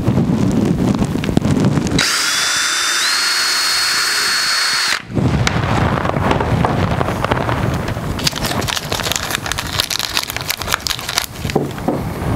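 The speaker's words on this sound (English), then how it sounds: "I'll drill the next hole simultaneously" Power drill boring holes through a track on a Bonafide SS127 kayak, a steady high whine running for about three seconds, close by, amid other handling and shop noise.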